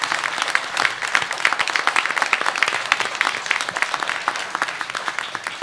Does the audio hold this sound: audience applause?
yes